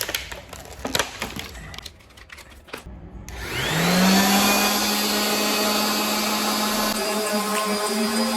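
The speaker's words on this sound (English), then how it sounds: "When you're sanding, you wanna make sure you line up the holes." A power sander spins up and runs with a steady whine on wood after some scraping and tapping sounds, close and loud.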